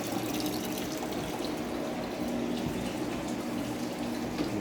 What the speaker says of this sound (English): Some of the dirty water we're getting out.